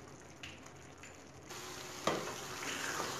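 Turnip sabzi sizzles softly in a pan over a medium flame, a low, steady frying hiss with a brief louder stir or splash partway through.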